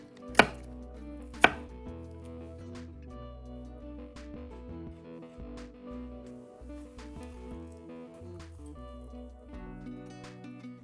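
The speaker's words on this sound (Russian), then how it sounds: "Теперь нарезаем, как вам нравится." Knife chopping a bell pepper on a board: two sharp hard strikes, then a series of lighter irregular cuts, close and clear.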